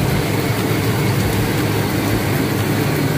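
Truck engine idling right after a cylinder head replacement, a steady, loud, low rumbling drone that stays constant throughout with no talk.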